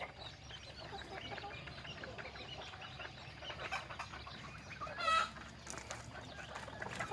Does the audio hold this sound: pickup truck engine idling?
no